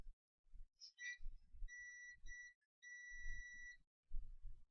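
Steady multimeter continuity beep sounding in two stretches, with a short gap, while probing a Moto G5 Plus battery connector to ground during a repair, with light handling clicks and thumps around it.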